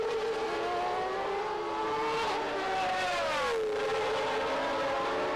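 Formula 1 cars race at the 1992 Portuguese Grand Prix, Patrese closing on Berger's McLaren: a sustained, loud, high-pitched engine scream that rises and falls through gear changes, with no voices.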